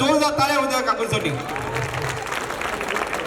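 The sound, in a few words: applause for a performer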